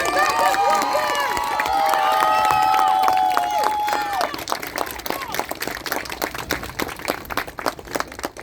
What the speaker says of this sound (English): I want everybody to stand and give a round of applause for my king, Coach Willard King Walker.